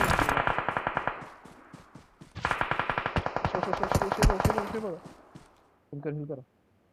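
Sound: gunfire in a mobile shooter video game

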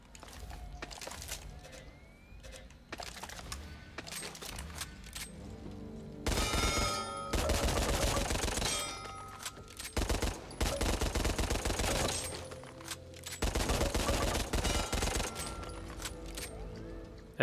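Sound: Beretta M9 burst gunfire in video game Back 4 Blood

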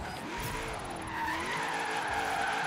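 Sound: car drifting and skidding in Forza Horizon 3 video game

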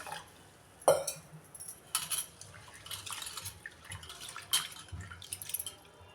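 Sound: lentils and rice being washed in water

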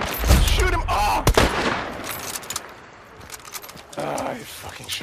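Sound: gunfire in the video game Hunt: Showdown

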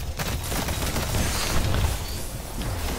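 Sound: flashbang grenade in Destiny video game

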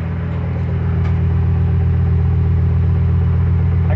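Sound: rebuilt Ford 5.4L 3V truck engine running after first start

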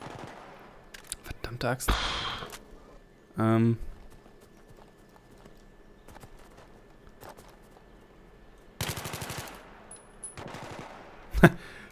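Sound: gunfire in the video game Battlefield 3

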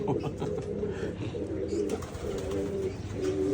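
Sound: pigeons cooing

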